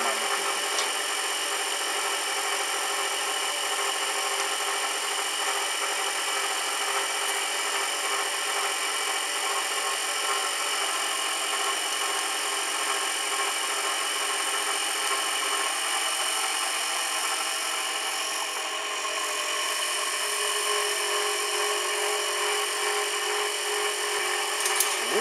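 A vibrating table runs while liquid aluminium is poured onto it, giving a loud, steady mechanical hum that holds unbroken for the whole stretch.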